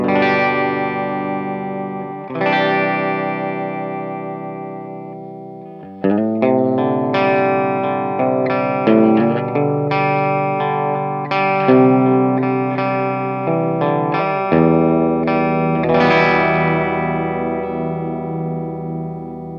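A clean electric guitar played on the bridge pickup through an Agape Amplification Tribute 18 amp rings out in chords and picked notes with a warm midrange, each phrase decaying before the next strum.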